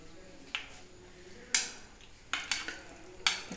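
A spoon stirs tamarind chutney in a wok in a few separate bursts of scraping and clinking against the metal, spaced apart over quiet background.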